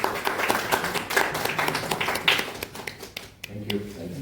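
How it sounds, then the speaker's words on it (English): A crowd at a Kotak Mutual Fund event claps steadily for a few seconds, the applause thinning out toward the end. "Please give a round of applause."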